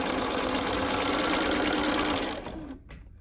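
A sewing machine stitches quilt block pieces for an Ohio Star block in one loud, fast continuous run, close up, then stops abruptly near the end.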